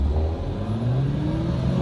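A Mercedes GT50 engine accelerating, a steady low rumble with rising harmonic tones as revs climb, heard from inside the cabin at moderate loudness with no talking.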